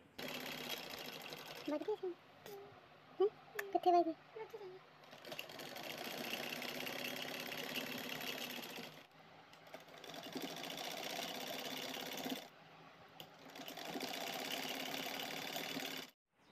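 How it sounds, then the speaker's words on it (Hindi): A sewing machine stitches elastic onto a palazzo made from an old salwar, its motor buzzing in long sustained runs separated by short stops, while someone talks over it. "जब हम लास्टिक के ऊपर सिलाई लगाएं दोनों तरफ से खींचते हुए हम इस तरह से सिलाई लगाएंगे"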